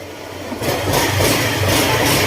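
A Honda Click 125 V3 scooter engine with a stressed drive belt runs steadily, its low hum rising slightly after a brief quieter start, with no talking over it.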